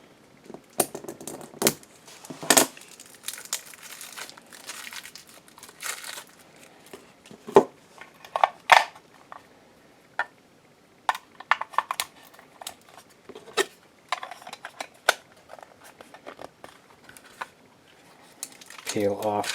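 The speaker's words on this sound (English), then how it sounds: "We will open up these batteries real quick." Plastic clicks, crinkling and peeling of a protective wrapper as the battery compartment of an Eve motion sensor is opened, scattered sharp close handling sounds with a person talking between them.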